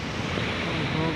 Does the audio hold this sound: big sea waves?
yes